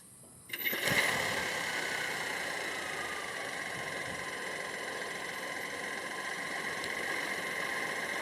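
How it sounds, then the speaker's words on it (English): A 2023 Proton X90 1.5 TGDi BSG engine starts by remote and then idles with a steady, even hum, heard from outside the car and close, with no speech. "The X90 in Malaysia does come standard with a remote engine start system."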